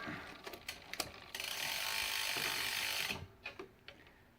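A bicycle chain shifts up onto the big chainring while a WickWerks Sentinel is installed, with ratcheting clicks followed by a steady whirring drivetrain run that stops abruptly, then a few more mechanical clicks.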